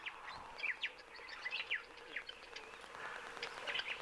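Birds calling at an African waterhole, including weavers, with faint, distant bursts of chirps and twittering scattered over a quiet outdoor background.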